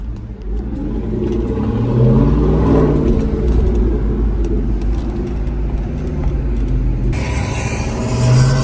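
Car fitted with a Corsa exhaust, driving and revving: a steady, loud low rumble of the engine and exhaust that swells and builds as it accelerates, heard close from inside the vehicle with no talking.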